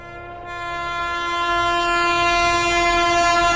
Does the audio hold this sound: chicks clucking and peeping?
no